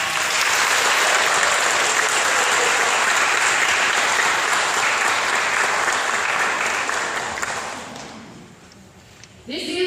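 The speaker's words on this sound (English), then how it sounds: "Let's give our students a round of applause." A school audience claps loudly and continuously for pre-K students, a dense wash of applause that fades out near the end.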